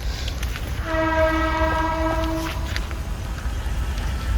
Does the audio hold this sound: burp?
no